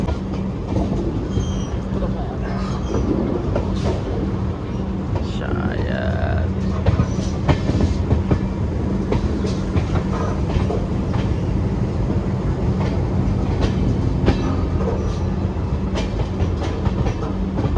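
The Rani Kamlapati–Mysuru summer special express runs on the rails near Daund, a continuous loud rumble with rhythmic clickety-clack of wheels over joints and occasional squeals, with people talking over it.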